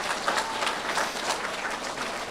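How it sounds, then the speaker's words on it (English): Steady, moderately faint applause from an audience of fifth-grade students at a school quarterly awards ceremony, a continuous patter of many hands clapping with no voices over it. "give her a round of applause"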